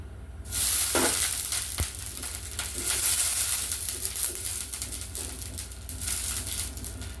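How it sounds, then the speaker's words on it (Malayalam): Batter goes onto a hot pan for appam and a loud hiss rises at once, settling into a steady sizzle with faint clinks and scrapes, heard close with no talk. "ചട്ടി ചൂടായിട്ടുണ്ട് ഞാൻ മാവ് വെച്ച് കൊടുക്കാം"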